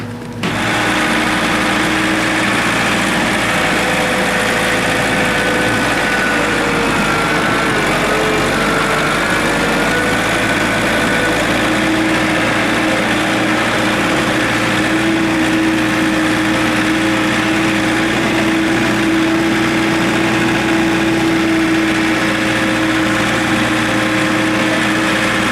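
A John Deere 2032R compact tractor engine idles steadily after a cold winter start, a loud, close, constant drone with no pauses and no voices over it.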